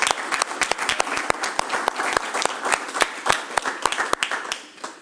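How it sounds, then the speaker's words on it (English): Attendees at a county executive and finance budget hearing committee meeting give a round of applause, a close, fairly small group of hands producing distinct, quick claps that fade out at the end. "I think that deserves a round of applause."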